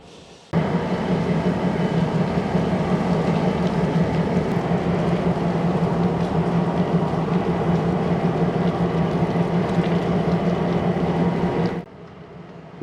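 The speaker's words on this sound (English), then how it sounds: "a few other rail fans gather to watch the train's departure" A heavy, constant low mechanical rumble from a departing Wisconsin & Southern freight train's large diesel engine on a cold, windy morning, steady and loud for about eleven seconds before cutting down.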